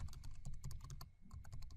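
Rapid keystrokes on a computer keyboard as a password is entered, a quick run of close, light clicks with a brief pause midway.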